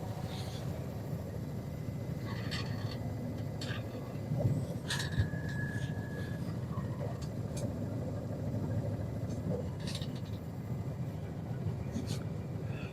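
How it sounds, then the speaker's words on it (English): A truck engine idles and rumbles steadily inside the cab as the truck pulls forward and the service brake is applied, with faint clicks and a brief squeal over the low hum. "I'm going to pull forward and press the service brake."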